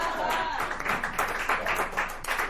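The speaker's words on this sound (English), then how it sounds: "Another round of applause for Mr. T." Audience applause for a comedian at a dive bar comedy show, a dense steady wash of clapping lasting throughout, with voices and cheering mixed in.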